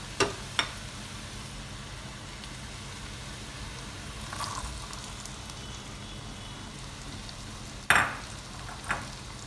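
Chopped onions frying in a pan for a vegan spaghetti bolognese: a steady, soft sizzle runs throughout, with a few sharp clinks and stirring knocks scattered on top.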